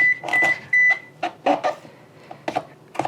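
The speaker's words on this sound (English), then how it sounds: "that beep was our oven preheated for our squash" An oven chimes as it finishes preheating for roasting spaghetti squash, a few short tonal beeps near the start against a quiet kitchen with light clatter and handling sounds.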